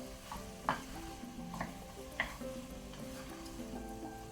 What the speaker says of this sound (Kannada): ಸ್ವಲ್ಪ ನಾನು ಪಾವ್ ಭಾಜಿ ಮಸಾಲವನ್ನು ಫ್ರೈ ಮಾಡ್ಕೊಳ್ತೇನೆ ತರಕಾರಿ ಜೊತೆಗೆ